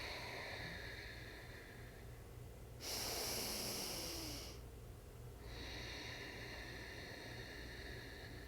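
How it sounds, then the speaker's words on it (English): Ujjayi breathing in and out through the nose with a constricted throat, slow airy ocean-like hiss, one long breath cycle after another, close and steady with no talk. "we're just gonna practice simply breathing in and out the nose with that constriction"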